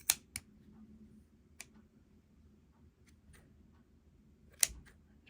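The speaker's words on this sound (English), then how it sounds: "I'm going to put my scissor in one side and cut" Scissors snip through the loop ends of a handmade yarn ornament, a few sharp, isolated clicks spread over a quiet stretch, one louder cut near the end.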